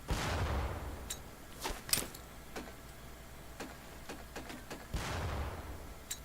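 Grenade blasts in Medal of Honor: Pacific Assault boot camp: two muffled explosions with whooshing tails bracket a string of sharp clicks and small impact taps from thrown grenades, moderately loud with quiet gaps between.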